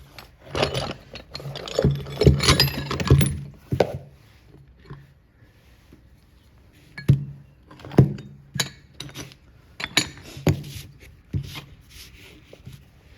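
Change gears from a South Bend Model C metal lathe clink and scrape as they are handled, with sharp metallic knocks coming in bursts and scattered single clicks between quieter pauses, close and fairly loud with no talk.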